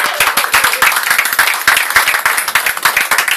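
A church congregation at a baptism service applauding, a lively crowd of many hands clapping in a fast, uneven patter that stays close and loud throughout.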